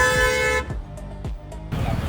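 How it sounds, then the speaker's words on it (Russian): A car horn blares in a long toot, then several short honks sound over night traffic noise in Ho Chi Minh City, close and loud. "Все куда-то едут, все сигналят."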